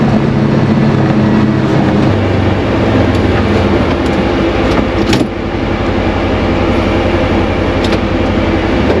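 Polaris Ranger Northstar UTV with a new clutch kit driving in low gear along a trail at about 17 to 20 mph, a loud, steady engine and drivetrain roar with rattles and bumps, heard close from onboard.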